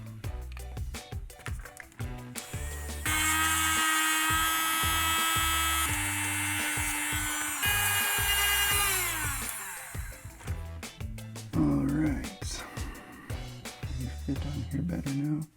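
Handheld rotary tool hollowing out a miniature statue, a high whining grind that runs steadily for several seconds, shifting pitch under load, with quieter handling sounds and bits of talk before and after.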